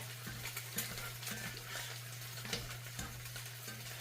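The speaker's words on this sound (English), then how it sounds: "I'm going to stir this because remember it's still very hot" Tocino being stirred in a very hot pan, a soft steady sizzle of frying meat with light scraping strokes, close and continuous throughout, no talking.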